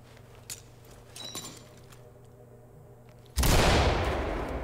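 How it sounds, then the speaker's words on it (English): A flashbang detonating during a SWAT room breach in the game Ready or Not: after a few faint clicks and quiet ambience, one sudden loud bang followed by a sustained ringing roar that lasts to the end. "let's go ahead and breach and throw a flashbang"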